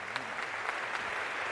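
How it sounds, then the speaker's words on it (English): Steady applause from a crowd, a dense patter of many hands clapping at a constant level, with no voices standing out. "Let's give him a round of applause."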